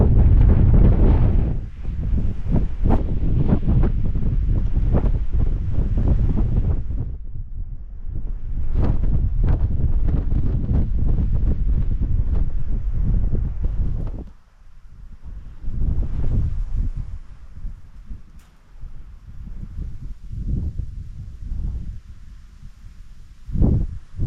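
Gusty wind buffets the microphone on top of Hope Bowdler Hill in the English countryside, loud rumbling bursts rising and dropping with brief lulls, close and harsh, with no voices.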